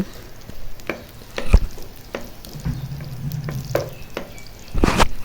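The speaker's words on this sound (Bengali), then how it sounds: "আগে রসুন আর জিরেগুলো শুকনো ভেজে নিলাম" Garlic and cumin seeds dry-frying in a pan make a soft hiss broken by scattered crackles and clicks of stirring, with a couple of louder scrapes and knocks, nearby and without talk.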